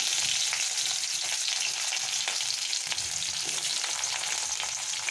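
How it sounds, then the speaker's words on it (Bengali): Continuous loud hiss and crackle of potatoes frying in oil, with occasional stirring scrapes and no talking. "আলুটাকে আমি ভেজে নেব"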